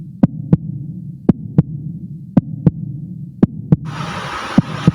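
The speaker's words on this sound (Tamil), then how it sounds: "உங்கள் 3 பேர்த்துக்குமே உங்களோட ஹார்ட் பீட் ரொம்ப ரைஸப் ஆகுது" A heartbeat sound effect thumps in paired double beats, lub-dub, repeating roughly every second over a low steady hum, with a hiss of noise rising in near the end.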